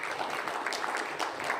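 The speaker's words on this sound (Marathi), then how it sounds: "आपण सगळ्यांनी परत एकदा टाळ्यांच्या गजरात त्यांचं स्वागत करूया" An audience at a felicitation ceremony applauds a guest being welcomed onto the stage, a brief, fairly faint patter of clapping heard from a distance.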